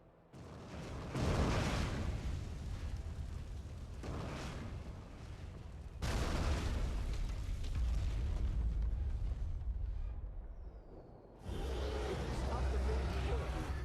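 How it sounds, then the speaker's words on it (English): Short-fuse bomb exploding in the video game Jade Empire, a loud sustained rumbling blast that swells, eases and surges again in repeated waves across the scene, with a voice heard during it. "Get away before it explodes! The fuse is a short one!"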